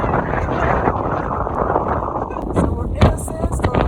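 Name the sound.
desert sandstorm wind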